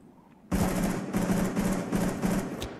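Rapid bursts of automatic gunfire in the video game Rainbow Six Siege, starting abruptly after a quiet moment, continuing in loud, rattling volleys with brief gaps.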